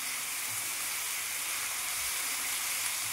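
Chopped tomatoes fry in a hot pan for Bengali beet chicken, giving an even, steady sizzle and hiss that continues without pause throughout.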